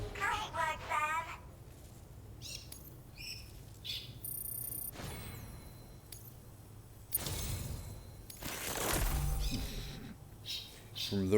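Parrots and parakeets at a shelter in the video game Death Stranding 2 give scattered chirps and squawks in short bursts, mixed with other game sounds and ambient noise.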